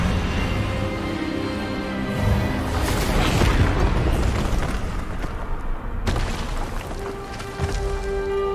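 A magical Expelliarmus spell blast in a Hogwarts Legacy cutscene, a dense roaring burst that swells and rumbles over several seconds under a musical score, with a sharp crackling flare near the end.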